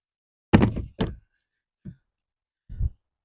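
A cover set down over an above-ground diesel heating fuel tank, giving two close hollow thunks in quick succession, then two softer knocks spaced apart, with no talking.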